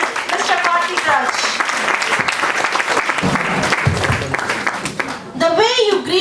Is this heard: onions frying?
no